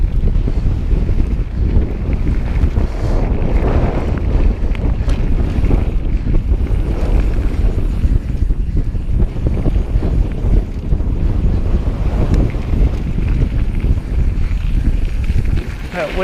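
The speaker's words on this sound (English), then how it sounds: "That wind's really bowling right there." Strong wind buffeting the microphone on a mountain bike trail along the Highline Lake Loop in Fruita, Colorado, a steady loud rumbling roar throughout with brief talk mixed in.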